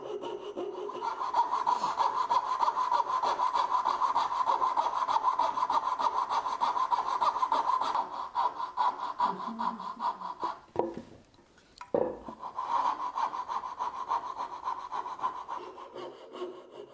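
A hand saw works through very hard wood to cut a dovetail joint, giving steady rasping strokes close by for about ten seconds, a brief pause, then more sawing.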